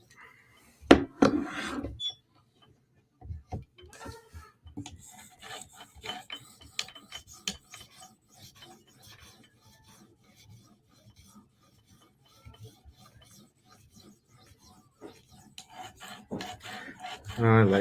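A Benchmade 940 knife blade is stroked across a stone on a TSProf Kadet guided sharpener, giving soft, repeated rasping scrapes with uneven rhythm and pauses, close and fairly quiet.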